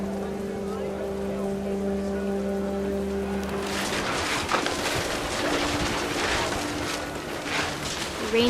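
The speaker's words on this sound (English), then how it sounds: "The rain came down in buckets then" Heavy rain pours steadily in the game What Remains of Edith Finch, a dense, constant hiss that swells louder after a few seconds, with a low tonal hum fading out early on.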